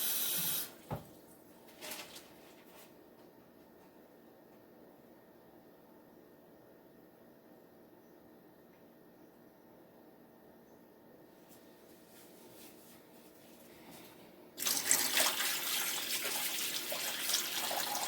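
Water runs steadily in a quiet room for several seconds, a faint continuous trickle, then a louder rush of water poured into a roasting pan beneath a turkey on a rack near the end.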